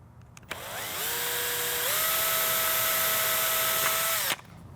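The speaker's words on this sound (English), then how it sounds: "in conjunction with my drill, punch a nice clean hole" A power drill fitted with an aluminum tube spins up, whines steadily for a few seconds while punching a hole in EVA foam, then stops abruptly; close and clear.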